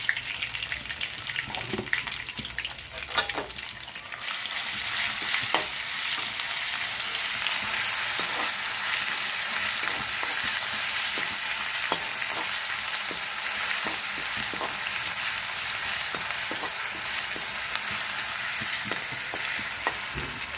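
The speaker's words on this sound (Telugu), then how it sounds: "కొంచెం అల్లం చిన్నెల్లిపాయ పేస్ట్ కొంచెం వేసుకుంటున్నామండి" Ginger and shallot paste fries in a pan with a steady, loud sizzle that builds after a few early clinks and stirring knocks, continuing evenly throughout.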